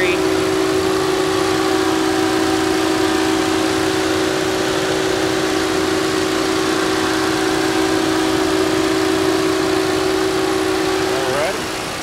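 A 2015 Volkswagen Beetle 1.8 liter turbo engine idles steadily at close range, a constant low hum with a strong tonal drone, holding even for about eleven seconds before easing off at the end.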